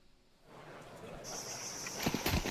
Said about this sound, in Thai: สิ่งที่ดังที่สุดตอนนี้เสียงจิ้งหรีดครับ